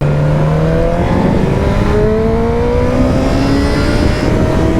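A close, loud motorcycle engine revs steadily upward while accelerating to about 120 km/h, its whine climbing in pitch over continuous wind noise, with no voices.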